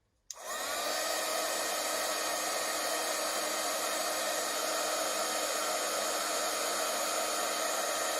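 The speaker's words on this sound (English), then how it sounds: "I'm just going to heat it for a couple of seconds until you see the powders meld together" A craft heat gun, set on its highest heat, blows in a continuous loud, airy roar while melting embossing powder on a crafting surface; it switches on abruptly and runs steadily without speech.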